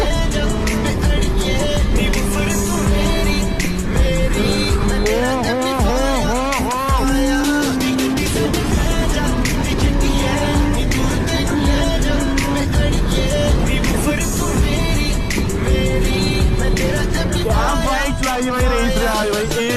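Superbikes race past on a road, loud engines rising and falling in pitch with revving, under continuous traffic and wind noise.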